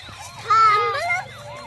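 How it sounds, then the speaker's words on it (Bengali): A toy ambulance siren wails in rising and falling electronic tones, fairly close, with a voice and background chatter mixed in. "অ্যাম্বুলেন্স"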